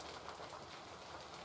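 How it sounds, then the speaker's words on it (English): Rain falls on an allotment shed in a steady, even hiss of drops on the roof and surfaces around it. The sound is faint and diffuse, and no one speaks. "and the rain's come in"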